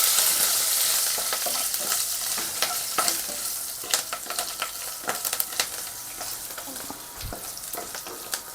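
Green chillies fry in hot oil under a continuous close sizzle, while a spoon or spatula stirs and scrapes the pan in irregular clicks and knocks across several seconds, with no talking.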